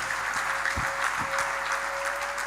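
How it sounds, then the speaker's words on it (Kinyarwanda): A church congregation claps for God together in steady, dense applause that fills the room, with a sustained tone ringing underneath and a few low thumps. "Twongeye tuyikomera amashyi Imana"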